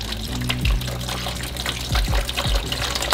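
Water, in place of washer fluid, spills and splashes out of the washer fluid bottle of a VW T3 van, a close, continuous gush with a few heavier glugs and pours.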